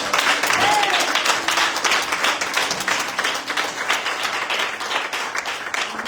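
A church congregation applauds and cheers in acclaim of the Lord, a dense wash of many hands clapping steadily for several seconds, with voices calling out in the crowd.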